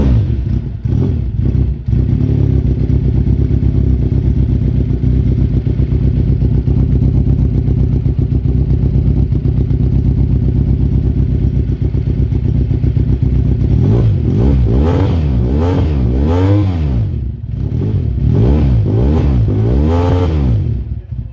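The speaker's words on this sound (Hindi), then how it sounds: "अब बाइक को स्टार्ट करते हैं और चेक करवाते हैं आपको इसके साउंड को" A Yamaha R1M 2021 replica motorcycle idles with a steady, throbbing engine and exhaust note, then gets revved several times in rising and falling bursts near the end, loud and close.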